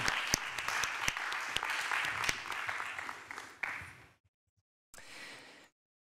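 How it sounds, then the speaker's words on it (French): An audience at an award ceremony in Lille applauds the prize winners with sustained, dense clapping and a few sharp individual claps. The applause cuts off, and after a short silence a brief final burst follows. "on peut les applaudir"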